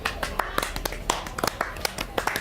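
Scattered hand claps sound at an irregular pace, sharp and fairly close, greeting a man as he takes his place at the head of a crowd during a tabletop fantasy role-play session, with low murmuring underneath.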